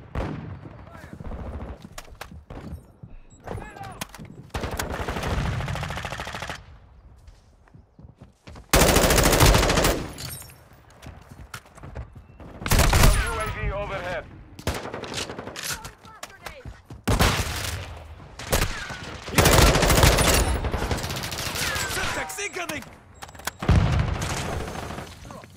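Call of Duty gunfire: loud, dense bursts of automatic weapon fire and booming shots in clustered volleys separated by quieter gaps, with shouted voices in between.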